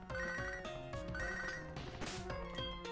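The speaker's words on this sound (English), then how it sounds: "No, Joey, I'm not answering the phone." A chiptune phone ringtone from the Pokémon HeartGold video game chimes in repeating bright trills over steady game background music, loud and continuous throughout.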